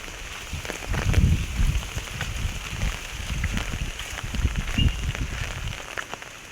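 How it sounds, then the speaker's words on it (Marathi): Light, steady rain falling on surfaces during the Konkan monsoon in Devgad, Sindhudurg, a continuous soft patter with occasional louder drops, no voices. "बारीक बारीक सुरूचा पाऊस."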